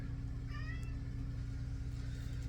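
A pet cat gives a single brief, faint meow while locked out and trying to get back in, heard over a low, steady engine-like rumble.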